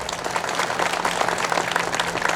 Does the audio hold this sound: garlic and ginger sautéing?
no